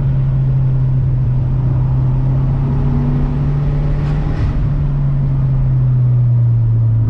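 A 1994 Toyota Celica GT-Four all-wheel drive car on the move, heard from inside as a steady low engine and road drone with a constant hum throughout and no talk.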